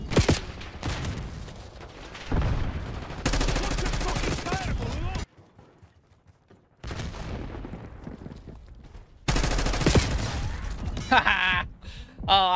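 XM4 rifle fire in Call of Duty: Black Ops 6 multiplayer, rapid bursts of automatic shots broken by short pauses and one near-silent gap, with voice chatter and game callouts in between.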